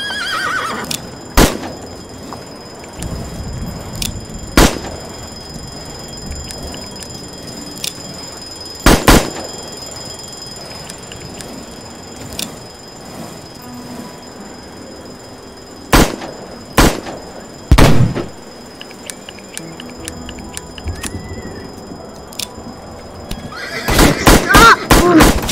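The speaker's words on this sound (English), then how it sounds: "Bagal naman ang horse na to." A horse in a video game neighs loudly several times, with sharp whinnies spread across the clip, between quieter stretches of hoofbeats. A cluster of louder calls comes near the end.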